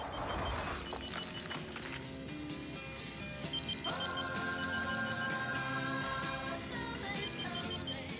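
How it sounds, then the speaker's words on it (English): A telephone rings in Lucrecia Martel's film The Headless Woman: repeated electronic ringing tones over a constant low background rumble, with no speech. "Her phone goes."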